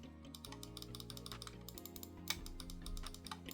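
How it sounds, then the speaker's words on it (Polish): A MARVO Niro 60W gaming mouse gives quick shallow button clicks in a fast irregular run, close and crisp over a steady tonal hum in the background. "Tutaj mamy kolejne przyciski, które mają taki dosyć płytki klik."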